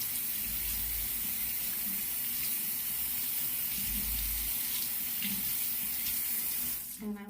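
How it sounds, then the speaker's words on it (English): Tap water runs steadily into a sink as a comb is rinsed under the stream, a constant close splashing hiss that stops abruptly near the end with a brief clatter. "I'm going to rinse my comb out."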